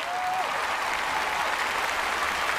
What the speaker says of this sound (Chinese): 来，掌声有请外婆，来